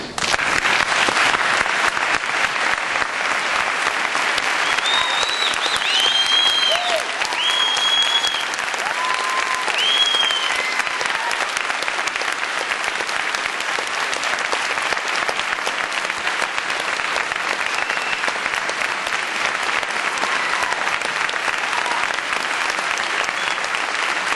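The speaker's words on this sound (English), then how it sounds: "I want to ask all of them to stand now so they can be recognized with your applause." An audience applauds students who were locked out of public schools, a long dense wash of clapping that holds steady and loud throughout, with a few faint whistles or calls near the start.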